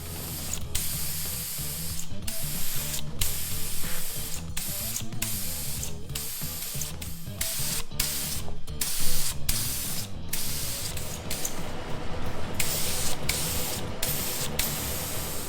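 A spray gun lays primer coat over car panels during the restoration of a BA Fairmont Ghia 5.4 V8, a steady hissing spray running continuously with brief gaps and clicking mechanical sounds throughout.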